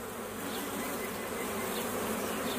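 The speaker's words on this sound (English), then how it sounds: "So what we do, we gently brush off the bees." A dense swarm of honeybees on a hive frame hums continuously close by, a steady buzzing drone with no talking over it.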